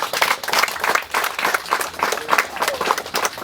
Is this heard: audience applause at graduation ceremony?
yes